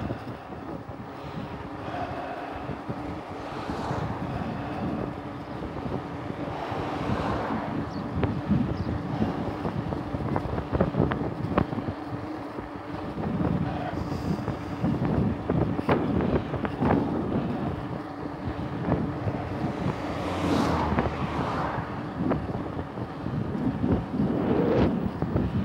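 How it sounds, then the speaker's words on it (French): Strong wind roaring and buffeting the microphone continuously on a descent, a loud rumbling rush with gusts swelling and fading, no voices. "Beaucoup de vent."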